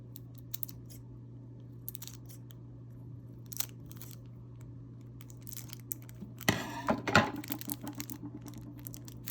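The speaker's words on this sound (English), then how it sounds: "Yep, need scissors." Scissors snip and crunch through the packaging of a Japanese snack crate, with faint scattered clicks at first and then a louder cluster of cutting near the end over a low steady hum.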